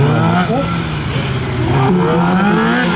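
A Suzuki GSX-R 750 motorcycle on a gymkhana course revs and accelerates with rising and falling engine pitch, loud and close, with a voice talking over it.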